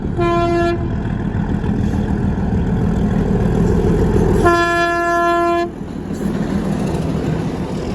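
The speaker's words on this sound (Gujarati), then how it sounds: "જોઈ લ્યો ભાઈ ટ્રેન આવી" A train rumbles past close by, sounding two long blasts of its horn, the second louder and more drawn out.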